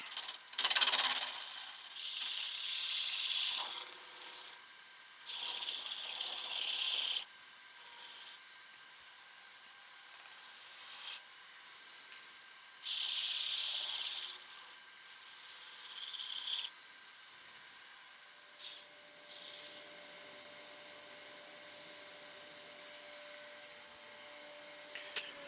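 Bursts of abrasive rubbing against a spinning wooden piece, repeated in short bouts separated by pauses, with a faint motor hum underneath.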